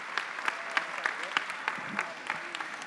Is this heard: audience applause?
yes